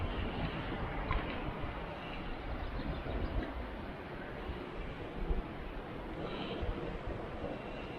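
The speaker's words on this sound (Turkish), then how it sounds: "Allah alttan dere akıyor" A stream runs below a scenic hillside spot, heard as a faint, steady, distant rushing with no voices over it.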